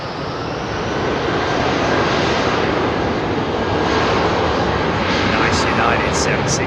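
A United Boeing 767 jet airliner at Heathrow Airport roars loudly and steadily throughout, its broadband engine noise filling the scene without letup.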